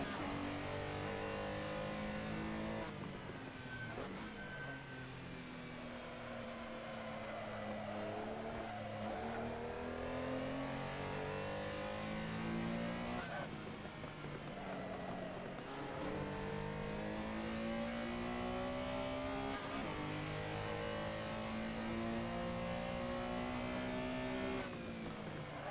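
A Porsche Carrera SR at Spa-Francorchamps in Assetto Corsa, engine droning steadily with repeated sweeping climbs in pitch through the gears and short dips between shifts, continuous and close for nearly half a minute.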